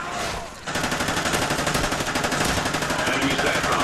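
Rapid automatic gunfire from the video game Call of Duty Ghosts, set in a prison map, opens after a brief lull into a sustained, loud, evenly pulsing burst of shots that runs to the end.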